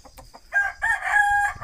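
A rooster, one of the Peru-breed chickens kept by local poultry fans, crows once loudly and close, a drawn-out call after a few short clucks, with no one talking over it.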